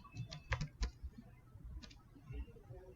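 Quick keystrokes on a computer keyboard, a short flurry of clicks followed by a pause and a couple more taps, close and fairly quiet.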